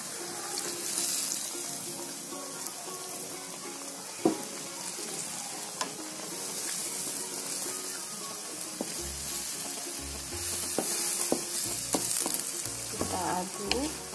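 Acehnese spice paste for fish asam pedas sizzles steadily in a pan while being stirred, with scattered scraping and clinking of the spoon, continuous and fairly close, with no talking.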